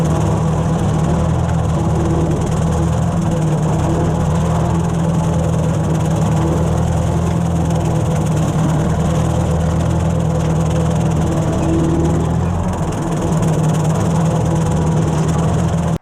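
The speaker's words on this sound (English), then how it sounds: "The Ford Workmaster lets me run that M5 Woods brush cutter behind me." A Ford Workmaster tractor engine runs steadily, a loud, close, continuous low rumble with constant vibration and no change in pace throughout.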